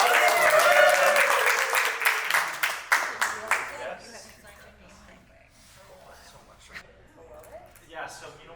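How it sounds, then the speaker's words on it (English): Wedding guests applaud in a burst of loud, close clapping that fades after a few seconds into scattered claps and quiet room murmur, with a few isolated claps returning near the end. "A round of applause."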